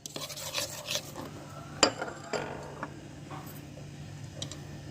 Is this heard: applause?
no